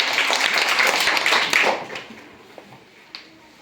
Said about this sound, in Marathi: परत एकदा टाळ्या